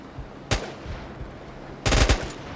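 Gunfire in the SOCOM Combined Assault video game sounds as a single sharp shot and then a short rapid burst a second later, fairly faint over a low background with no talk.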